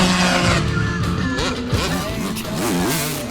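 A 500cc motorbike engine revs loudly and up close, its pitch sweeping up and down in several quick bursts, with engine drone running throughout and no talk over it.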